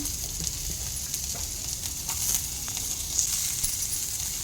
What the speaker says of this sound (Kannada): ಐಕೆ ಆನಿಯನ್ ಪಾಡ್ದು ಫ್ರೈ ಮಲ್ತೊನ್ಗ